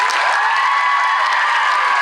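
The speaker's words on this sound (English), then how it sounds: "a big round of applause" A large convention audience applauds at a Men of The Vampire Diaries Universe panel, a loud, dense, continuous wash of clapping with faint cheering mixed in.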